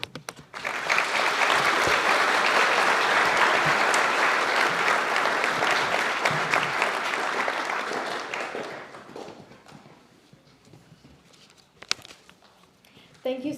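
An audience at a school Veterans Day program breaks into loud, sustained applause for about eight seconds, then thins into scattered claps and fades away.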